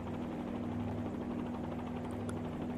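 Simulated helicopter in a flight simulator, hovering with loss of tail rotor effectiveness as the nose yaws right and it spins, giving a steady, loud rotor and engine drone with a constant low hum throughout, no speech.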